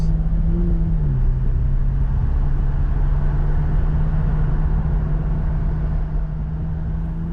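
A McLaren 570S Spider driven with the roof off gives a steady, unbroken engine drone with a low humming tone, continuous and fairly loud throughout, with no voices.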